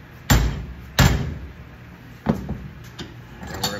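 An aluminum fuselage side sheet for an RV-10 kit aircraft being bent by hand, smacked in three or four sharp, loud thumps spaced about a second apart, close by, with a faint background hum and no talking.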